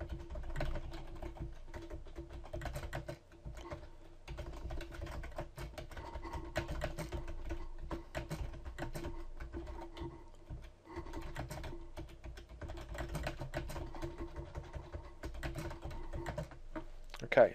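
A tweet being typed on a computer keyboard, with steady rapid key clicks close up and continuous throughout, at low level with a faint background hum.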